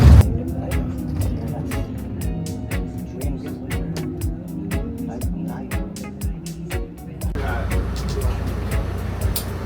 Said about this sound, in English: So far, so good. I like the electric buses.